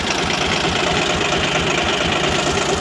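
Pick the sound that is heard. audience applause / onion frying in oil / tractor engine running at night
tractor engine running at night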